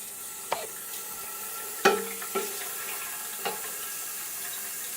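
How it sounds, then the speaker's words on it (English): A steady tap runs continuously into a sink while glue is washed off, with a few sharp clinks and knocks of objects against the basin. "I'll turn up the flow a bit."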